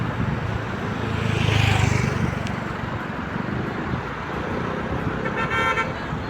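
Busy road traffic near a hospital in Samatya, a continuous roar of passing cars with a car horn tooting clearly and a few more horn blasts later, loud and close.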